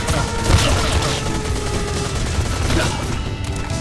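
AR-15 rifle fire in the first-person shooter Aim Online: loud, dense bursts of rapid shots and booms that run without a break through the whole stretch.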